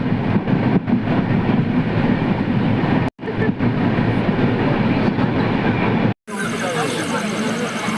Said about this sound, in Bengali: এখানে দাঁড়িয়েছে ট্রেনটা।